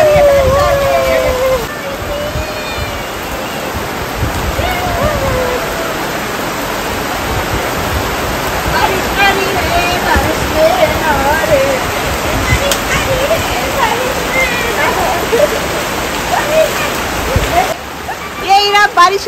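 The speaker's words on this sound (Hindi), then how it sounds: "ये इरा बारिश का मजा ले रही है, बारिश का" Heavy monsoon rain pours down at a bungalow, a dense continuous hiss and splash throughout, with a voice talking over it.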